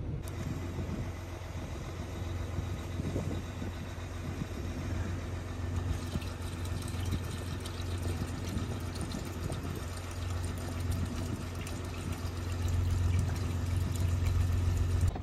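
A diesel truck idles in cold weather after diesel treatment has been added, its engine giving a steady, even low rumble that holds unchanged throughout at a modest level.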